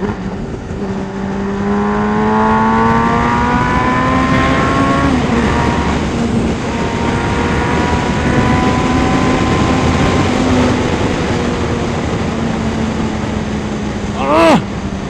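A Suzuki Hayabusa motorcycle engine drones loudly at speed, its pitch sliding down and back up as it downshifts, under steady wind rush with a quick rev near the end.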